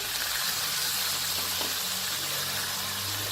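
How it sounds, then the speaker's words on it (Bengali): A steady, continuous gush of water poured into a cooking pan of ground spices for a Bengali pointed gourd dish, filling the whole stretch without pauses. "মিক্সির বাটিটা ধুয়ে আমি সামান্য একটু জল দিয়ে দেবো"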